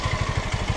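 A worn, smoky-exhaust motorcycle engine idles with a loud tappet clatter from its intake tappet adjuster screw, a quick, even knocking beat heard up close and alone.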